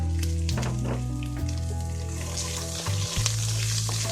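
Chopped onions sizzle loudly in a hot pan while being stirred for a sprouts thoran, a dense continuous frying hiss with small stirring knocks and no talk.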